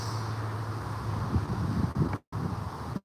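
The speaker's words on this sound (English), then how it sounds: "it's quite windy" Gusty wind buffets a microphone outdoors during a dog walk, a broad low rumble with rising surges and a brief dropout near the end, with no talking.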